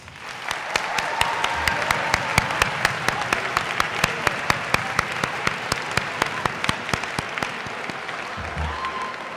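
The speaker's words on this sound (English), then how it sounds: "Would everyone please join me in giving them a round of applause?" Applause for a graduating class of 2014 at a senior recognition ceremony, a crowd clapping steadily at moderate level with a few sharp, distinct claps standing out near the microphone, running about nine seconds.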